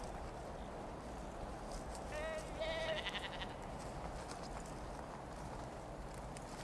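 A sheep gives two wavering bleats in quick succession, clear against a steady low rumble of background noise.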